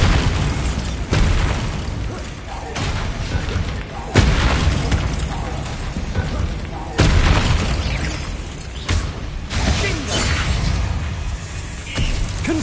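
Repeated booming spell blasts go off in a wizard video game, several loud bursts landing every couple of seconds amid continuous dense game sound and clutter.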